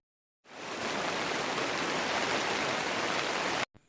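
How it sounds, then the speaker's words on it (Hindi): Steady broadband rain pours down near a temple for several seconds, a constant loud hiss that starts abruptly and cuts off at the end, with no voices over it. "यहाँ पानी गिरे शुरू हो गई से, पानी भी दिखत हावे"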